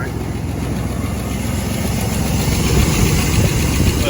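A 1992 Chevrolet K1500 truck engine idles after an engine swap with a steady, close, loud rumble and a faint knocking undertone, while a voice speaks over it.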